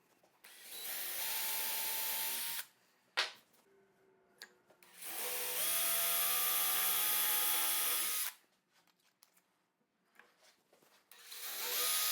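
A power drill with a brad point bit whirs loudly into scrap wood in two long bursts, with short quiet pauses and small knocks between them.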